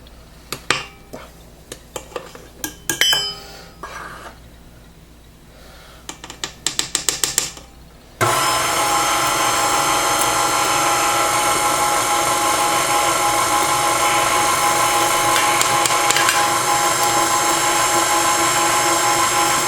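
Cookie dough for homemade Chips Ahoy style mini cookies being made, with scattered clinks and taps of utensils against a bowl before an electric mixer starts up, whirring loudly and steadily as the dry and wet ingredients combine.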